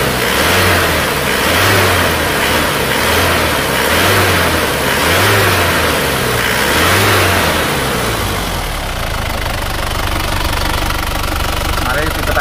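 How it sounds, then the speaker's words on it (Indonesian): An Isuzu Panther diesel engine revs in repeated rising pulses near the mic, then drops to a steady rough idle for the last few seconds, with a faint knocking clatter throughout. "Suara mesinnya seperti ini, gas lagi."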